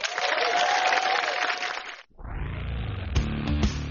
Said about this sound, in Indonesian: Beri tepuk tangan yang meriah untuk Irfan Hakim.